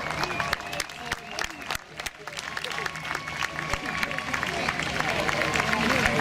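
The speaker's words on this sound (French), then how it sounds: "On l'applaudit bien fort." Crowd applause at an outdoor welcoming ceremony for canoers in Gatineau, a mix of scattered claps and murmuring voices that builds and thickens toward the end.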